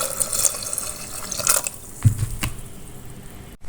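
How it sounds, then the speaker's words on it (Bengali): Water pours into a pot of lentils being boiled for a sour dal with olives, giving a short close splash and trickle with a couple of louder bursts partway through, and no talk. "প্রয়োজন মতো পানি দিয়ে সিদ্ধ করে নিব।"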